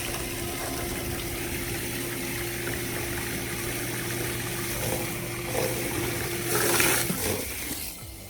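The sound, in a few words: automatic submersible pump pumping water out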